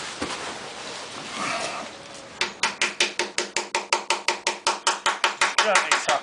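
Repeated light hammer taps on a Grey Fergie TEF20 tractor engine part being eased past a slightly undersized gasket, about twenty sharp, evenly spaced knocks close by after a stretch of quieter handling noise.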